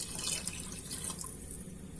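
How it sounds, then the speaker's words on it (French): Water pours steadily into a pot for Moroccan harira soup, a continuous close splashing gurgle with no talk. "On va rajouter de l'eau au fur et à mesure."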